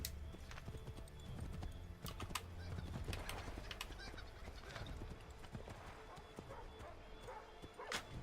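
Horse hooves clip-clopping in the video game Assassin's Creed 3, a steady rhythmic trot heard faintly beneath game sounds, with dogs barking and a horse whinnying nearby and voices talking.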